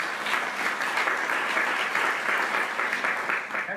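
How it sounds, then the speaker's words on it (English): A conference audience claps in a sustained, even wash of applause, many hands together at moderate loudness, continuing throughout without pause. "Give him a round of applause."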